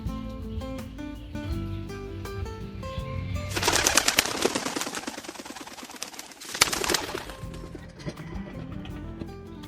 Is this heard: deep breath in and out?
no